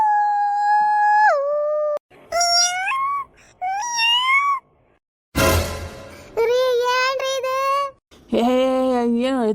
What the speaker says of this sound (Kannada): ನಾಯಿ ಬೇಕೆ ಚೀರತಾವು ಮತ್ತೇನಲ್ಲ